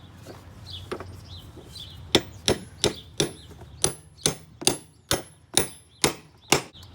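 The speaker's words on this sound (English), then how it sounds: "Nothing like getting the biggest hammer in the box to pound it on with." A big hammer pounds a lawn mower part with sharp metallic strikes, about a dozen blows in a fairly regular rhythm after two early taps, each hit ringing briefly, close and clear with no talking.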